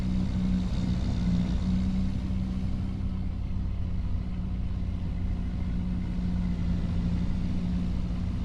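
A truck engine runs steadily in the forestry game New Frontier Forestry, a loud, constant low drone with an idling hum that holds even throughout, with no talk over it.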